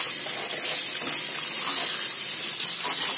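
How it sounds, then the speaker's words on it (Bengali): Tap water runs steadily into a sink while raw chicken is washed, a constant close hissing splash with slight shifts in the flow and no talking. "চিকেনটাকে ধুয়ে নিই।"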